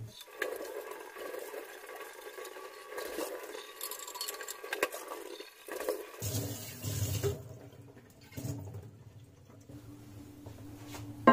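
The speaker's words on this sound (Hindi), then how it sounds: "अब इसे पानी से धो लीजिए।" Water running as a steel flask is rinsed at home after cleaning scale and dirt, a steady close splashing and trickling that shifts to a fuller, deeper gush partway through.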